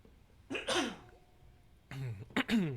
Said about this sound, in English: As I clear my throat a little bit.